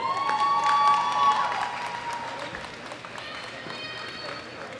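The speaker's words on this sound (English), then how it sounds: "Big round of applause for Camille Holland" A crowd applauds a bronze medal winner at the 2018 World Classic Powerlifting Championships, women's open heavyweight class. The applause is a sustained wash of clapping and cheering that fades slightly, with an amplified voice speaking over it.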